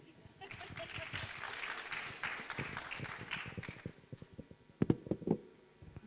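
An audience applauds at a live enterprise development event, scattered claps building into steady applause and then thinning, with a voice and a few sharp louder knocks near the end.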